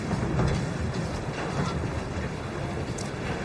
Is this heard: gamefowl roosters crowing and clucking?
no